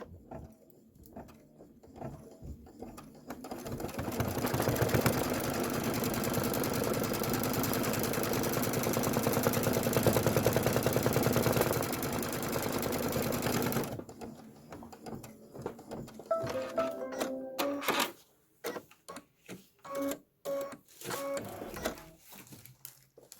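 An embroidery machine stitches leather onto a pickup truck cab design, whirring in a steady, rapid mechanical rhythm for about ten seconds, then stopping and giving way to scattered clicks and handling noises.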